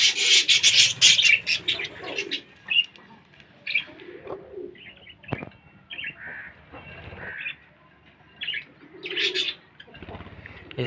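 Caged birds rustle and peck at food with scraping, rasping sounds, mixed with occasional coos and chirps nearby; no one is talking.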